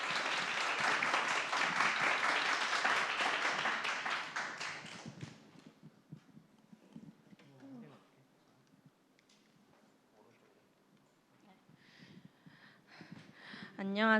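Audience applause at a school presentation event, a burst of clapping for about five seconds that quickly dies away, followed by quiet room noise, scattered taps and a few faint voices.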